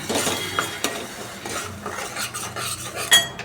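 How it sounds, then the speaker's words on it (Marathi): Katachi aamti being stirred in a metal pot after tamarind pulp and jaggery go in: a steady run of close scraping and clinking strokes against the pot, with a few sharper knocks, and no voices. "आता चांगले परतवा."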